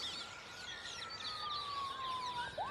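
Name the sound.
police sirens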